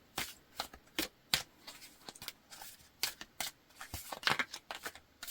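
Tarot cards being shuffled by hand in quick bursts of crisp riffling and slapping, close and fairly quiet, with short pauses between shuffles and no speech.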